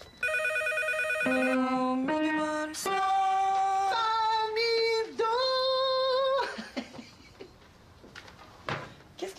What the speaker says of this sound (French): Ah, voyons, puis le téléphone qui arrête pas de sonner.